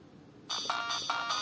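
Siemens C72 mobile phone sounding a ringtone that starts abruptly after a short hush, repeating bright electronic tone bursts in a steady pulsing pattern, close and clear with no voices.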